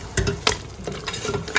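Kashmiri chili and ginger being stir-fried in a pan, with a few scraping stirs of a spoon over a soft, steady sizzle, close and moderately loud.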